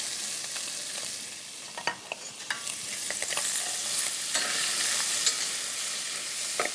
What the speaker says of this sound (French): Je vais mettre cette échalote et ces carottes à revenir avec la carcasse